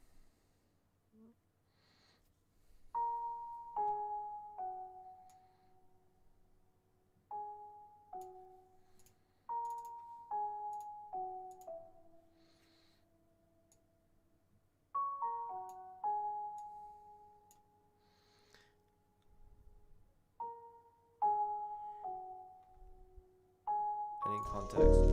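A quiet, warm felt piano plays soft, muted phrases of a few notes each in a home recording setup, with pauses between them and faint background hum.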